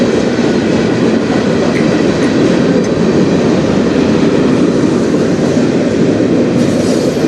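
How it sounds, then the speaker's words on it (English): A train rolls past on the Strathroy Subdivision, a loud, steady rumble of wheels and railcars with rhythmic clatter, sustained close by for the whole stretch. "Now I'll get a few trains."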